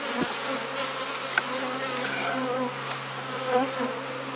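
Honeybees swarm around an open hive during supering, filling the air with a dense, constant buzzing drone close at hand that holds steady throughout with no speech.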